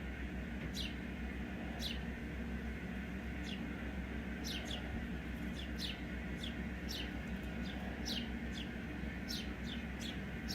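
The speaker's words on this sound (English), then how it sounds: "You can hear all those birds" A busy outdoor bird chorus from birds in a winter tree, quick bright chirps popping up irregularly at different distances over a steady low drone, with no voices present.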